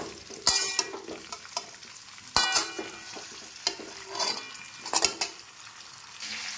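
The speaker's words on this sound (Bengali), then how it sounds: "এবার আমি গ্যাসের ফ্লেমটা একটু বাড়িয়ে দেবো এবং এটাকে ভালো করে নাড়াচাড়া করে ভেজে নেব।" Firm mango pieces for pickle stirred and fried in oil over a raised gas flame, with repeated scraping clatters of a spatula against the pan over a soft, continuous sizzle, close and clear.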